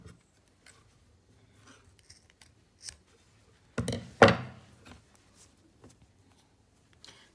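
Scissors snip through crochet yarn once, a short crisp burst of cutting alone in a quiet room, with faint handling taps before and after.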